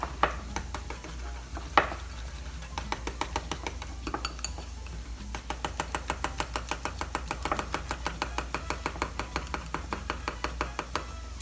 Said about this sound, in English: And then I just add the lime juice and whisk it up.